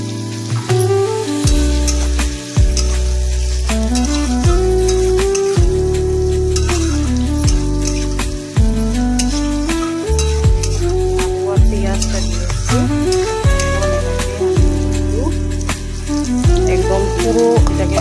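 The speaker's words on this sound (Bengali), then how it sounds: "একদম পুরো এটাকে আমি ভাজা করে দেবো।" Potatoes and onions frying in a pan make a continuous sizzle with occasional stirring, partly buried under loud background music for the whole stretch.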